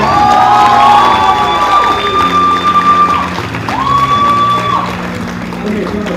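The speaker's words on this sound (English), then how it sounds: "A big round of applause for you guys" A lively audience after an arts performance erupts in loud cheering, whoops and high-pitched shouts over a dense wash of applause, sustained throughout and easing slightly toward the end.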